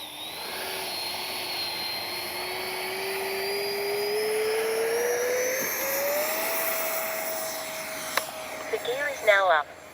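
An H-King Flycat V2 RC jet fitted with a KM afterburner taking off left to right, a rising turbine whine that climbs in pitch as it accelerates past, loud and close, ending with a few gusty bursts.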